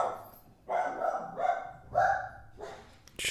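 A dog barks three or four times in short bursts about half a second apart, fairly close and moderately loud, with a faint yip at the end, while a card game is played in the Arena Cube.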